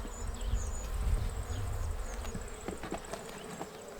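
Honeybees at an open hive during an inspection, a continuous close swarm buzz with bees darting past the microphone, plus a few soft knocks from frames being handled.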